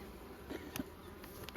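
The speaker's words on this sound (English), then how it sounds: "I'm just going to give them a shake so I don't lose too many bees" Honey bees on a brood frame from a strong hive give a faint, close buzzing hum, broken by a few brief clicks and knocks.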